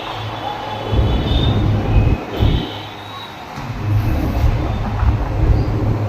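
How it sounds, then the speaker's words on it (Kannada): A train rumbles past close overhead at night in a crowded city, a loud rolling clatter that swells, dips briefly, then builds again amid heavy traffic noise. "ಮೇಲೆ ಟ್ರೈನ್ ಹೋಗ್ತೈತಿ ಮೇಲೆ ಕೆಳಗಡೆ ನಾವು ಹೋಗ್ತಾ ಇದ್ದೀವಿ"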